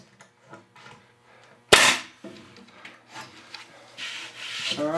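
A pneumatic air nail gun fires into lumber while building duck nesting boxes in a barn, giving one sharp, loud crack, with fainter rubbing and scraping of wood before and after.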